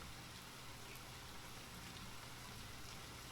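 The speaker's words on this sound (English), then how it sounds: "The rain got even stronger." Steady rain in a horror video game, a dense, even hiss of falling drops that holds constant and faint throughout without any break.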